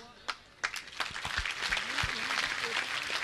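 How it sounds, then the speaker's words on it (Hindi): A crowd claps at a Jain religious gathering, beginning with a few scattered sharp claps that swell into dense continuous applause, with voices audible beneath it. "ये तालियां"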